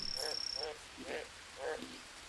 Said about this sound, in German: da ist ein Frosch